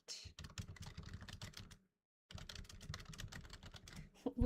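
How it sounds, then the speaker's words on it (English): Rapid clicking keystrokes on a computer keyboard, close and fairly loud, in steady bursts with a short pause midway. "Oh, my keyboard sounds so satisfying."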